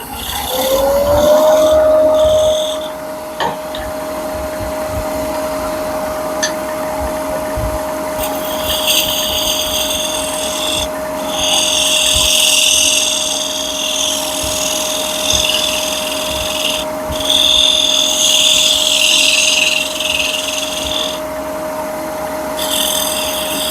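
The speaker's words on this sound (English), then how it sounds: "And I'll use my" A spindle gouge cuts on a spinning wood lathe, a steady motor hum under a loud, continuous scraping and rasping that comes and goes in long passes, close up with no talking.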